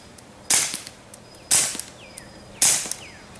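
A suppressed Ruger SR22P .22 pistol with a Thompson Machine Zephyr suppressor firing CCI standard velocity rounds gives three evenly spaced, quiet, sharp snaps, each followed by a brief mechanical clack, with no voices.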